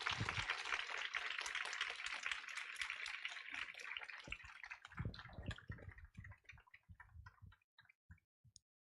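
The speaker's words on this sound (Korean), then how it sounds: "큰 박수로" Applause from a crowd, dense and steady at first, then thinning into scattered individual claps before fading out.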